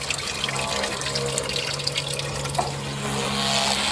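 Kerosene is pumped into the oil pan of a 1979 Chevy G20 van's engine to flush out thick old oil, a steady close liquid rush and splashing with a faint underlying hum.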